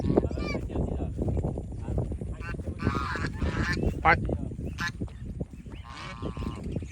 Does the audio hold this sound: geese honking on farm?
yes